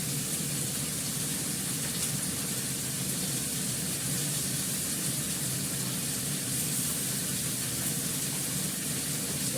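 Spices with Kashmiri chilli powder sizzle in a pan, a steady, even hiss that carries unbroken from start to finish at a low level.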